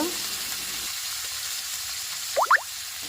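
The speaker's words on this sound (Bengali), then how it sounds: "তেলটা এত গরম হয়ে গেছে মাছ দেওয়া মাত্র এই আগুন ধরে দিয়েছে" Hilsa fish fries in very hot oil in a pan, giving a steady close sizzle with a couple of brief bubbling pops near the end and no voices.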